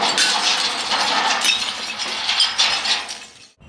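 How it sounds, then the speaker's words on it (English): Glass bottles smash and clink continuously at a recycling center, a bright, crunchy cascade of breaking glass close by, with several louder crashes before it cuts off abruptly near the end. "The sound of smashing glass."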